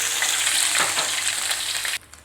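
Ginger and garlic fry in hot oil in a pan for a Tamil peanut egg poriyal, giving a steady, loud, close sizzle that stops abruptly near the end.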